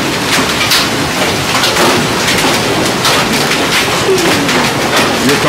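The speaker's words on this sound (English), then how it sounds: "Baseball size hail. They're bouncing 15 feet in the air when they hit that." Baseball-size hailstones pound surfaces during a violent Oklahoma City hailstorm, a loud, dense, continuous clatter of impacts with sharper individual hits throughout.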